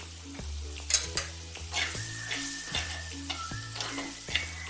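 Chili powder and turmeric sautéing in oil in a pan for a gooseberry pickle, giving a steady close sizzle broken by the repeated scrape and knock of a spoon stirring.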